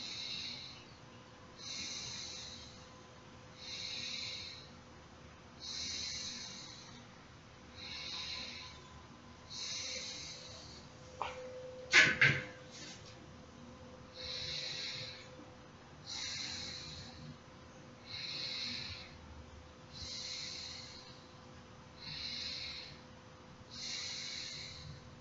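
Pranayama breathing exercise: slow, steady rounds of audible inhaling and exhaling repeat evenly for the full span, close and soft, with one brief louder knock near the middle.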